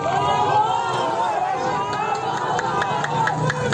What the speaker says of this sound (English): We can see them cheering here